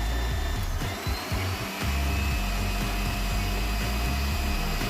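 A Casiko SW5353S stand mixer with an empty bowl, no flour or ingredients inside, runs with a steady, close motor whir that stays fairly even throughout.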